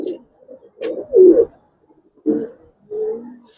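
Nearby Giribaz and colouring pigeons at a farm give low, rolling coos in four or five separate phrases, clear and close, with brief silences between them.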